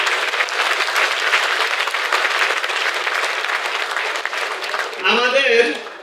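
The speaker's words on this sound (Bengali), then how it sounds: "করতালি আশা করতেছি।" Loud, sustained applause from a large audience at the Tiens Bangladesh Meet to Glow 2026 leaders' event in Cox's Bazar, a dense clapping roar lasting about five seconds before a voice cuts in over its tail.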